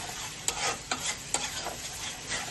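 Spice paste for chicken kosha sizzles softly in a pan while a spoon scrapes through it in a steady rhythm, about four strokes in under three seconds, with no talking.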